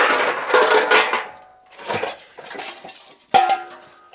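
Loose Chevrolet 14-inch hubcap with a lucite center rattling, three short bursts of metallic clattering and jangling separated by brief pauses, close and fairly loud.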